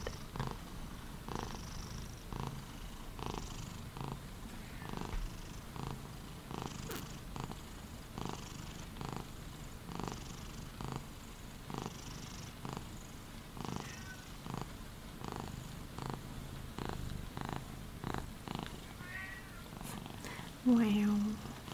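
A cat purrs in a steady rhythmic rumble of repeated pulses, close and soft, with a brief louder meow-like sound near the end.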